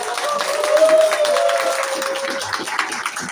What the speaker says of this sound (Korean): 큰 박수로 이렇게 따뜻한 박수로 맞이해 주시기 바랍니다